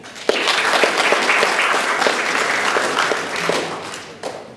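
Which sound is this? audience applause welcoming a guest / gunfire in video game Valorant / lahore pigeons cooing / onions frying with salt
audience applause welcoming a guest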